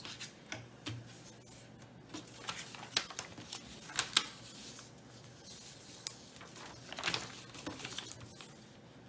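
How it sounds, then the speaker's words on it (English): A sheet of paper being folded back and forth by hand while making a cootie catcher, giving quiet, close, irregular crinkles and rubbing with sharper creasing snaps scattered throughout. "So I'm folding it back and forth a lot, as you can tell."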